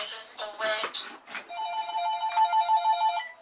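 A telephone rings with a steady, repeating electronic tone after a brief burst of noise. It is fairly quiet and heard alone.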